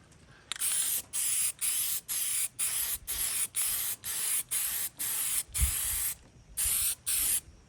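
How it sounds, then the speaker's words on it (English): Short bursts of aerosol spray hiss in a steady rhythm, about a dozen quick sprays close up with brief pauses between them, sprayed onto an antique child's chair. "You can spray it on like the plastic dashboard parts, console, door panels"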